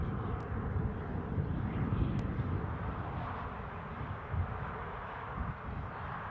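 An Airbus A320neo passing at Newcastle International airport, a broad continuous engine roar with wind rumble, steady and fairly distant with no talk.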